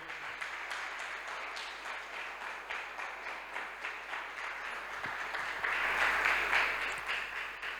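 Sustained applause from a church congregation, steady clapping that swells louder toward the end, heard at a distance in a reverberant room.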